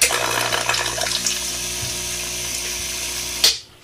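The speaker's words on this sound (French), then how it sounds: "La pompe fonctionne A1" A Gaggia Classic espresso machine's water pump, its intake and return hoses set in water, gives a steady, loud mechanical buzzing hum that runs without a break and then cuts off abruptly near the end.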